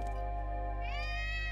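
A cat meows once in Gravity Rush, a single clear rising meow heard close over a steady low game background hum, with no talking.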